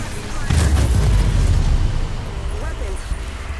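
Spaceship weapons fire and booming explosions in the VR space combat game EVE: Valkyrie, a loud, rumbling burst that swells and fades over a couple of seconds, with a faint voice over it.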